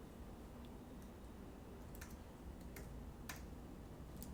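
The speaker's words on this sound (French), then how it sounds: "je vais cliquer, je vais taper" Scattered computer keyboard key taps, faint and irregular, a few sharp clicks over a steady low hum.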